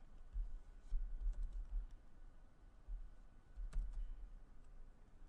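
Typing on a computer keyboard while writing Java code, with soft, close keystrokes falling in uneven bursts and short pauses, quiet throughout and with no one speaking.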